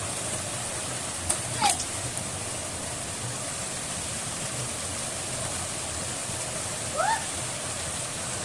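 A stream or small waterfall rushes in a natural spot within Tehran, a steady broadband wash of flowing water with brief faint chirps or squeaks over it.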